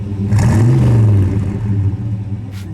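A 1968 Ford Torino GT fastback with a 390 cubic-inch V8 is revved once hard, the engine swelling into a loud roar and then easing back toward idle.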